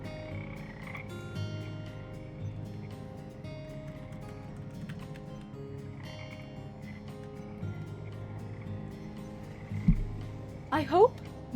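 Frog croaks from the video game Teach a Man to Frog, a steady low repeated croaking throughout with game music, then louder sharp bursts near the end.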